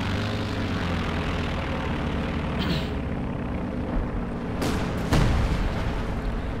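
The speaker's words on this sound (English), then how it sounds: "Strafing run here continues to occupy Soviet infantry." Aircraft passing over a World War II strategy game battlefield on a strafing run, with a continuous roar of engines and gunfire under steady explosive rumble, plus two sharp whooshing bursts near the end.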